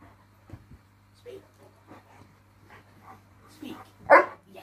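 A dog in a home training session gives a few faint, scattered yips and short barks, ending in one louder bark, over a steady low electrical hum.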